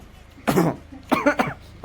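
Two or three rough coughs from one person, close to the microphone, separated by short pauses.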